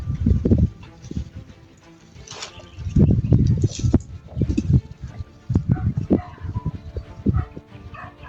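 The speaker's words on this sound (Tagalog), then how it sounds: "Kasi may aso." Dog barking repeatedly outdoors at a moderate distance, sharp yips and bow-wows in irregular bursts, with a voice talking in between.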